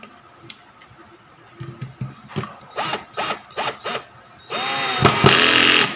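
Black and Decker GC1800 cordless drill driving a 1.5-inch gypsum screw into plywood: a few short whirring bursts, then a longer strained run that rises in pitch as the screw goes in, heard up close.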